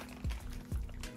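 Water pouring into a Polish military ration pouch, a short gurgling splash with two low sloshing glugs, close and fairly quiet.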